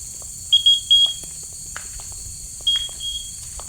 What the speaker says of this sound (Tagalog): Nag-beep siya. Nag-beep siya, guys.